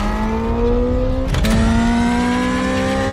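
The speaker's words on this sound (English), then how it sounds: "it's actually just a sound synthesizer like the one you get in a Hyundai Ioniq 5N. Just fake noises played through the car" Synthesized engine noise from a new Dodge, played through the car's speakers: a loud, continuous droning rev with steady tonal pitch, a brief shift midway, then cutting off sharply at the end.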